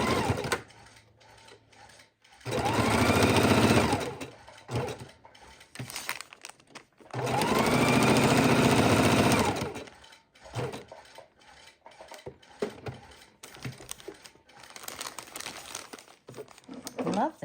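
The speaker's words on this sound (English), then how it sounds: "We just have to sew around our buckle still." A sewing machine runs in two sustained bursts of a few seconds each, stitching raw-edge appliqué around a buckle shape with gold thread, close and loud, with a person talking quietly between the runs.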